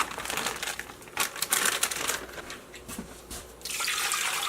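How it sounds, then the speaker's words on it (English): Water poured into a pot of beef stew with frozen beef stock, splashing and trickling in uneven bursts with some crinkling handling noise, fairly faint and close. "2 cups of water we just added."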